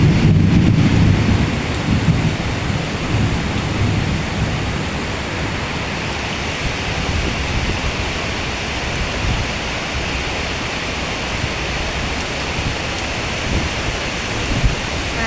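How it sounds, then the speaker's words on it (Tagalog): Heavy rain pouring in Malaysia during a thunderstorm, a loud, steady dense roar throughout, with a slightly heavier rumble at the start. "grabe lakas ng ulan"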